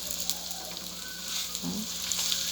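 Lechon kawali pieces fry and get stirred in their own rendered fat, a steady close sizzle with light crackle and a brief scrape of the stirring spoon.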